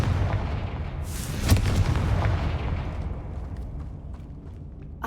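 A Confringo fire spell bursts into an explosion in Hogwarts Legacy, a sudden booming blast that rolls into a dense rumbling roar and slowly fades, with scattered crackles trailing off; no voices.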